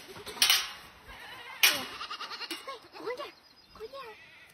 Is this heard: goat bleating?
yes